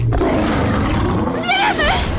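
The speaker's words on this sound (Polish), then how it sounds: "Co to jest? Tygrys szablozębny." A saber-toothed tiger from the Jurassic World Camp Cretaceous season 4 trailer lets out a loud, sustained roar that fills the whole moment, rising into a rough, wavering upper snarl near the end.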